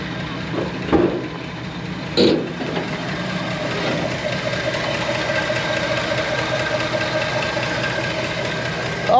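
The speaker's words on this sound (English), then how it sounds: "The engine's nice and quiet." A 1964 Chevy Impala SS engine idles smoothly and quietly nearby, a steady low hum broken by a couple of brief clunks early on.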